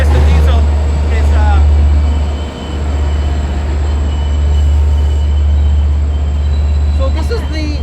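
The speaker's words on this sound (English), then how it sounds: "This is a Passengers United exclusive of the first test train going through the track." A Long Island Rail Road test train runs on the new third track at Mineola station, a loud continuous rumble of wheels and rail noise close by, with faint wheel squeals and people talking underneath.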